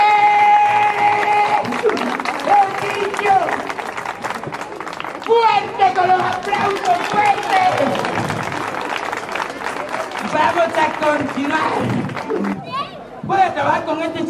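A live audience at a magic show by a magician in Alcorcón applauds a trick, with loud, sustained clapping and crowd murmur running under someone talking over it throughout.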